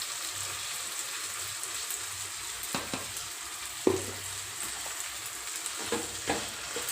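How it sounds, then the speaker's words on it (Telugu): Ivy gourd (tindora) curry frying in a pan after curry powder is added, a steady soft sizzle running throughout with a few brief stirring clinks and scrapes. "ఇప్పుడు దీనికి కూర పొడి వేసుకుంటున్నాను."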